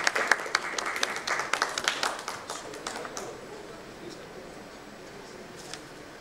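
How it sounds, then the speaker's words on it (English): An audience at a BPO business summit and awards event applauds to welcome a speaker on stage, a dense burst of clapping that gradually thins and fades into the hall's quiet ambience. "With a huge round of applause, ladies and gentlemen"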